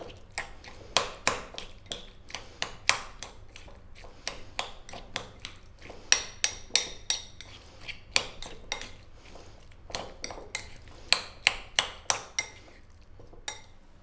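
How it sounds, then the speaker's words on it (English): A utensil clinks and scrapes repeatedly against a bowl while mayonnaise sandwich filling is mixed, with sharp, rhythmic metallic taps in quick bursts, close up and without speech. "Let me give that a mix."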